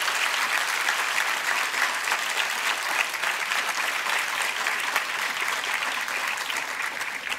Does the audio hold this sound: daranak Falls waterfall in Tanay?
no